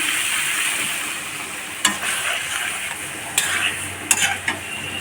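Water goes into a hot pan of spiced radish curry, and a steady hiss and sizzle follows. A few sharp utensil knocks and scrapes of stirring cut through it, close and even, with no one talking.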